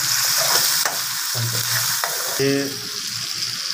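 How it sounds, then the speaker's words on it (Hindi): Onion and tomato masala sizzles and fries in a hot pan, with bursts of crackling and occasional scraping stirs, no voices. "ये मसाला है, इसको अच्छी तरह हम भूनेंगे।"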